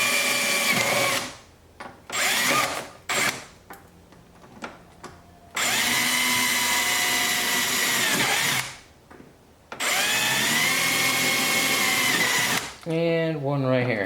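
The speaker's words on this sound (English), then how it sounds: "Now we're gonna go ahead and we're gonna drill the last ones of this" A power drill bores into a C8 Corvette Z06 conversion wing in several loud, sustained bursts, with short pauses between them and a rising whine at the end.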